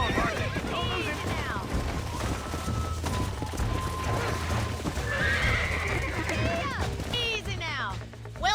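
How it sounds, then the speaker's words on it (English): Horses whinny and neigh over clip-clopping hooves in a western video game, with characters talking over the animal sounds and a busy outdoor soundscape behind them. "These are fine horses."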